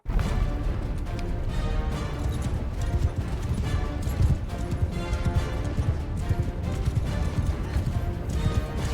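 Horse hooves pound at a gallop in the video game Mount & Blade 2: Bannerlord, a dense, loud, steady clatter of hoofbeats layered with rough battle noise throughout.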